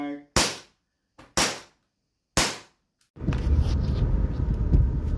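An airsoft gun fires three evenly spaced sharp cracks, each decaying quickly into silence. Loud, steady rumbling noise follows, with a person speaking over it.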